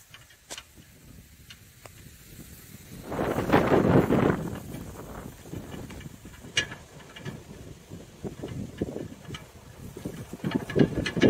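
Gusts of wind buffet the microphone in uneven bursts, strongest early on, over faint mechanical ticking and rattling from a homemade wind turbine for charging an electric bike.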